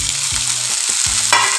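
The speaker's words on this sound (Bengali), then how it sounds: "তো এখন দেখো আমি সবজিগুলো একটু ফ্রাই করে নিই" Vegetables frying in hot oil for poha, a loud, steady close sizzle throughout, punctuated by a few stirring scrapes and clinks in the pan.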